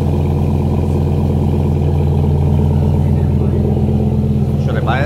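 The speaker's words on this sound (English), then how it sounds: "It's the Viper motor." Dodge Ram SRT-10 pickup with the Viper V10 engine running steadily up close, a deep continuous rumble with strong low harmonics throughout, while people talk over it.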